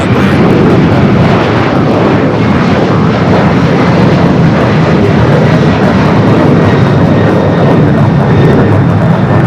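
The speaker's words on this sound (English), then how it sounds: "the Lufthansa Queen now makes that turn heading into the gates" A Lufthansa Boeing 747 taxiing toward the gates at LAX gives a loud, close, sustained jet engine roar with heavy low rumble and a thin high whine, constant throughout and alone.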